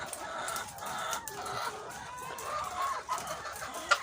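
Dekalb White layer hens around 22 weeks old cluck softly in a poultry house, a steady murmur of overlapping calls with a brief louder squawk near the end.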